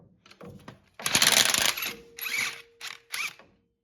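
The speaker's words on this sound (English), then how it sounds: "So now we can proceed to removing the top bolt and nut." A 14mm bolt and nut come off the alternator of a Toyota Tundra, heard as close ratcheting clicks and metallic rattles in several short bursts, loudest in the middle, ending in silence.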